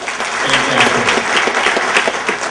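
Steady applause from a crowd, dense clapping filling the room without pause.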